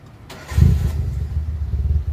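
A Mitsubishi Lancer engine cranks briefly, then catches and settles into a steady, close, rumbling idle with no voices over it.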